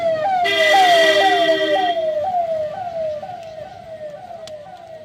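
An ambulance siren on a rainy monsoon forest road to Sabarimala repeats a rising wail as the vehicle speeds past, loudest early and then steadily fading into the distance.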